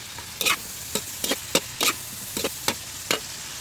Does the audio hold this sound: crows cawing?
no